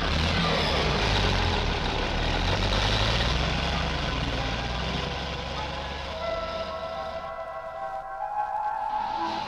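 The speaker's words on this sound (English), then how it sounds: "Loading 45 tons of us into each big truck, taking us to the crusher at the mine." A big mining truck loaded with 45 tons of taconite rumbles toward the crusher at a Minnesota mine, a loud low engine drone that eases off midway into a quieter whine and idle.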